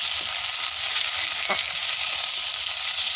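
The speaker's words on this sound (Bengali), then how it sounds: "রসুন আর পেস্ট কাঁচামরিচ ভাজা হয়ে গেছে, লাল হয়ে গেছে। এখন দিয়ে দিব গুঁড়া চিংড়ি মাছ।" Ground shrimp frying with garlic and green chili paste gives a steady, close sizzle with a brief stir scrape midway, no voices.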